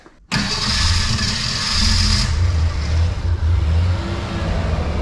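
A Ford Aerostar's 3.0 engine runs steadily and fairly quietly after a van has sat for 20 years, with a rough, uneven idle heard up close and no talk.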